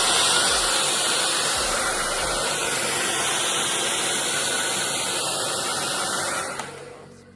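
A handheld hair dryer blow drying hair at home, a steady loud whooshing roar of air that holds evenly for several seconds before fading away at the end.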